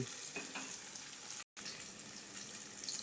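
Potatoes frying in a pan for a rohu fish curry, a steady soft sizzle with faint stirring scrapes, quiet and close, broken by a brief dropout midway.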